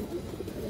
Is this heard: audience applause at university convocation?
no